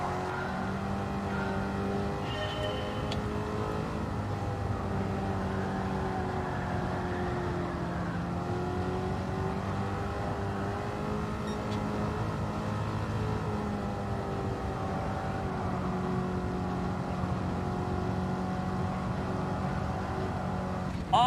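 Steady engine drone of a car being driven in Gran Turismo 7, a sustained tone shifting gradually in pitch as revs rise and fall, continuous and prominent with no talking.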